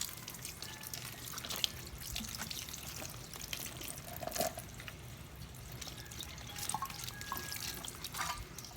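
Ox skin is rinsed under running water in a kitchen, with a steady quiet trickle, occasional drips and splashes, and soft handling sounds throughout.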